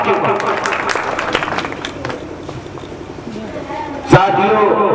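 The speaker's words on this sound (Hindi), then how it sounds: "जोरदार तालियों से इस्तेमाल अपने तमाम साथियों का" Applause from an audience at a party workers' conference in Faridabad, with someone speaking loudly over the crowd throughout and a sharp knock near the end.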